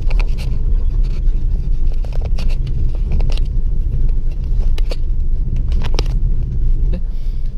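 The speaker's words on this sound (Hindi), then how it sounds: "गाड़ी किस तरह से चल रही है।" Car rolling along slowly during a driving lesson, a steady low engine and road rumble filling the whole stretch with a few brief higher scrapes and rattles, loud and close from inside the cabin.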